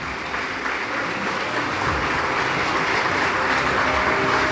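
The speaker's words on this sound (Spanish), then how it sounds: "Dale un fuerte aplauso al Señor." A church congregation applauds, producing a steady, loud wash of clapping that carries through without a break and with no speech over it.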